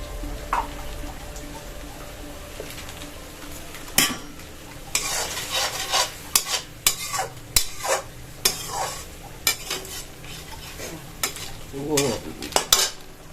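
Tomato cooks with garlic-onion paste in a pan, a low sizzle under frequent irregular stirring, with spatula scrapes and clinks against the metal growing busier in the second half.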